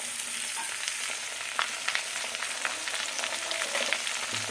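Food frying in a pan seasoned with salt and turmeric, a steady close hiss and sizzle with small crackles and occasional stirring scrapes, no voices.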